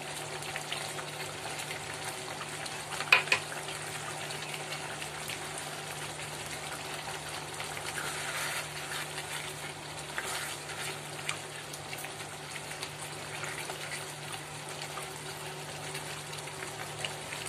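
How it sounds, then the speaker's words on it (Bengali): Fried potatoes are added and stirred into a yogurt-based Mughlai chicken gravy, producing a low, steady simmering sizzle with a few soft stirring knocks and no voices. "এবার আমি এর মধ্যে ভেজে রাখা আলুগুলো দিয়ে দেব।"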